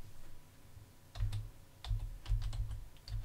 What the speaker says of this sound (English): I'm just typing it in.